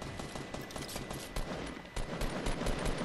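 Scar-L rifle gunfire in the Fortnite video game comes as a dense, continuous burst of rapid shots with overlapping distant firing in the background, loud and sustained with no clear pauses.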